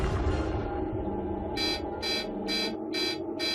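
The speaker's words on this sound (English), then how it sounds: "alarms sounded at the most sensitive scientific devices ever constructed." Alarm at highly sensitive scientific detectors, heard as five evenly spaced, sharp electronic buzzer pulses over a steady low rumble, loud and insistent.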